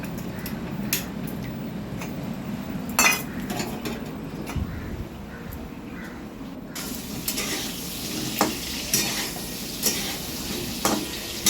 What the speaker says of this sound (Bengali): তেল দিয়ে কড়াতে পটলগুলো ভেজে নিচ্ছে